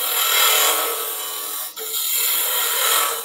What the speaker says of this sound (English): I've got to lean across the lathe for this a bit.